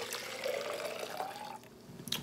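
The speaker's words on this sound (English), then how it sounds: "I'm gonna go ahead and pour my tea in there" Tea pours into a cup holding brown sugar, a soft close trickle of liquid lasting a couple of seconds with a faint clink at the end.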